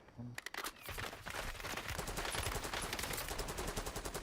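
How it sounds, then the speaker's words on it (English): Rapid, dense bursts of automatic gunfire crackle in the Call of Duty Warzone video game, with sharp repeated shots layered into a continuous, loud volley that carries through the whole stretch. "You're getting sniped from the right."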